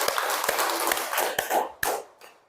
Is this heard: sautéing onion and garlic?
no